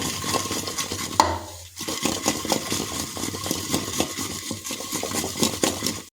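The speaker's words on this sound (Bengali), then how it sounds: "হলুদ গুঁড়ো যোগ করে দিয়েছি এখন ওইগুলোকে ভালোভাবে আমরা মেখে নেব" Prawns being mixed by hand with salt and turmeric in a bowl make a continuous wet squelching and clinking of the bowl, close up, over a steady humming motor-like drone in the background.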